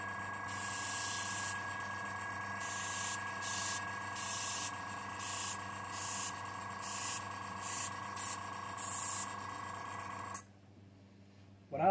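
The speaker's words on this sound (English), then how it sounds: "you pull the trigger, you let it start spraying paint, pull back just a little bit" Airbrush spraying paint in close, loud hissing bursts, about ten in a row in a steady on-off rhythm, over a constant background hum, then stopping abruptly.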